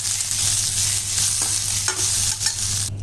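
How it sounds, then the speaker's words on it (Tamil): Tomato and onion sautéing in a pan for a mango-jaggery tamarind kuzhambu, a steady close sizzle and frying hiss with a few scraping stir strokes, no voices. "நல்லா இதை சேர்த்து நல்லா வதக்கிக்கலாம்."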